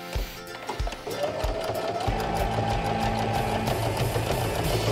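A sewing machine topstitches with a topstitch needle and topstitching thread, starting with a few separate clunks before settling into a loud, continuous close whir.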